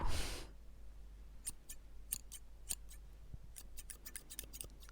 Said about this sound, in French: J'espère que vous entendrez bien les ciseaux.